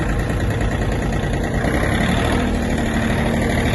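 Mitsubishi MT-20 Japanese mini tractor engine running steadily at a close, even idle-like drone, loud and continuous throughout with no talking.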